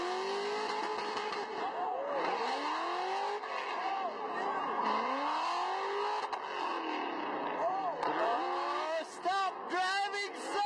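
A drift car drifting on a track while the car is on fire, its engine revving in rising and falling sweeps with tire squeal, heard from inside the car, with a voice talking faintly over it.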